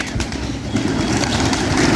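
A flock of pigeons coos and stirs close by, with soft wing flutters over a steady, dense background.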